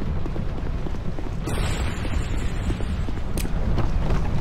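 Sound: fire roaring in Dark Souls 2 video game

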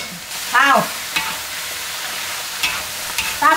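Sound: stir-frying shiitake mushrooms, red dates and tofu skin in wok

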